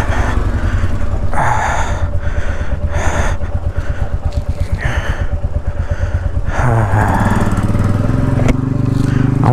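Motorcycle engine on a ride from Lachung toward Gangtok in Sikkim, a steady close drone throughout with a rising pitch shift near the end as the bike accelerates.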